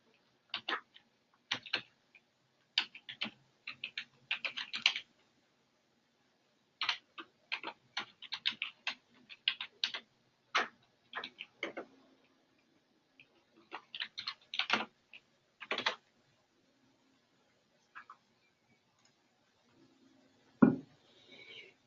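A login email and password being typed on a computer keyboard, heard as close, dry key clicks in irregular bursts with short pauses over about twenty seconds, then a single heavier tap near the end.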